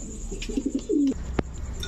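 Racing pigeons at a pigeon seller's coo close by: a few short soft notes followed by a longer rolling coo, over faint background noise.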